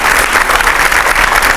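Loud, dense clapping from a studio audience greets Uma Bharti, former Madhya Pradesh chief minister, as she walks onto an interview show. It forms an even, close roar with no speech over it.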